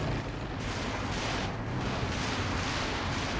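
Stuka zu Fuss rocket artillery fires in a Company of Heroes 2 match, a dense, continuous roar of launches and blasts with no break in loudness throughout.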